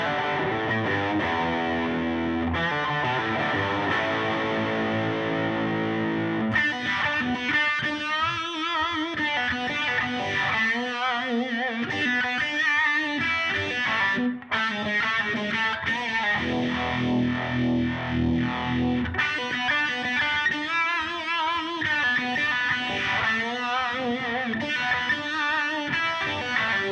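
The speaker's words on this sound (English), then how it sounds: "Put the phaser on there to get that sound." A distorted electric guitar played live through a phaser effect, sustained chords opening into a long, loud riff with a swirling, sweeping tone.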